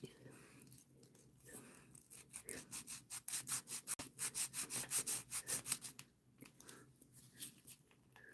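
A nail file rasps back and forth across acrylic nails in quick, rhythmic strokes, soft and close, coming in clustered bursts with short breaks between them.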